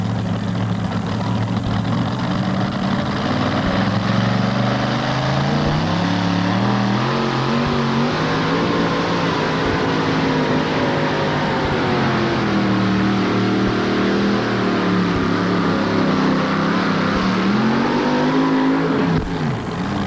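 A heavy truck-pulling engine roars loud and continuous at a 1988 NTPA truck and tractor pull in Syracuse, its pitch rising and falling as it revs and strains under load throughout.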